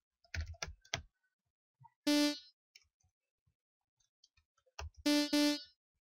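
Computer keys are pressed as inputs to Stagelight music software, a few quiet clicks followed by short bursts of loud synthesized tones triggered twice, with faint taps between them and no talk.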